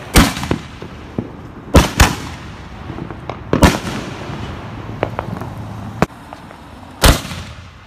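Loud booming launches of 5-inch firework shells fired from a mortar tube, several sharp reports spread irregularly with quieter crackles and pops between them, close by and outdoors at night.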